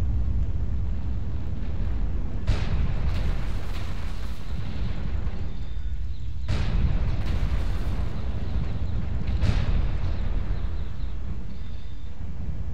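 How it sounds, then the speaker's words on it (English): Airstrike explosions in the MechWarrior Online video game: three heavy, booming blasts in sequence, each with a sharp onset and a long rumbling tail, over continuous low engine rumble, with no talk. "Airstrike online."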